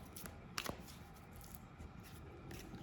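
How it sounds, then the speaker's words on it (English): Playing cards are shuffled by hand during a new-moon tarot-style reading, a soft riffling and flicking burst with a sharper snap near the middle, close and fairly quiet, with no talking. "All right, more shuffle."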